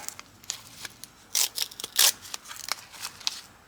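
Scissors snip a plastic gauge stem in a turbo Miata engine build, giving a series of crisp, close clicks and crunches at irregular intervals, two of them louder than the rest.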